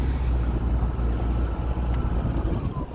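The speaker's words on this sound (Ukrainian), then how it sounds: "Зараз ми їдемо по центральній вулиці." A vehicle drives slowly along the central street of a village recently freed from occupation in Mykolaiv region, with a steady low engine rumble and road noise and some wind buffeting the microphone throughout.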